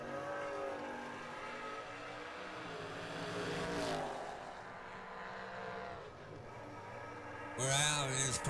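Drag racing at a memorial event, a 1968 Camaro and a wagon lined up at the strip, engines droning steadily throughout with a sharp surge of roaring revs near the end, while a voice talks over the noise.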